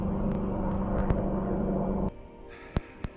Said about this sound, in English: that's the rescue chopper heading south down the loch